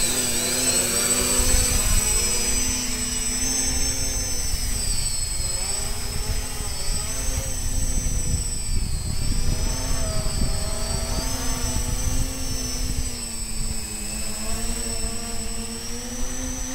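Ares V-Hawk x4 VTOL model aircraft electric motors during hover-to-forward-flight transition, a steady high-pitched buzzing whine with wavering pitch as the motors throttle up and down, continuous and fairly close for the whole stretch.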